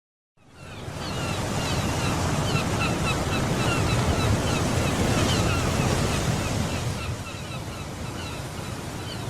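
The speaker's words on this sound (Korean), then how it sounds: "두 노인이 동해안의 바닷가에서 바다를 즐기고 있네요." Sea waves wash onto a beach on Korea's East Sea coast, fading in to a loud, steady surf roar with some wind buffeting, easing slightly toward the end.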